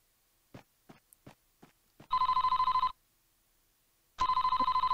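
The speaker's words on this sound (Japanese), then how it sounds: "電話だ。" An old-style telephone rings in the Super Famicom detective game Famicom Detective Club II. Two loud electronic trilling bursts are separated by a pause and preceded by a few soft taps, with no voices.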